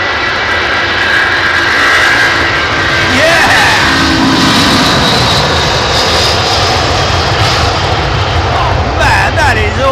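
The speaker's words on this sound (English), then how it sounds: "These are Pratt & Whitneys, aren't they?" A jet airliner with Pratt & Whitney engines departs at Heathrow, a loud, continuous broadband roar that swells and holds across the whole stretch, with a voice briefly heard over it.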